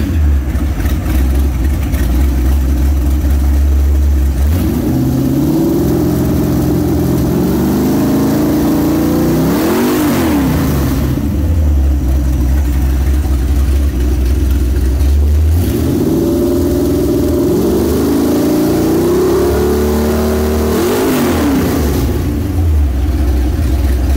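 A 400 hp Chevrolet 350 V8 with a roller cam and freshly adjusted carburetors runs in a 1963 Corvette, loud and close, idling with a lumpy rumble between two long rising revs that climb and fall back.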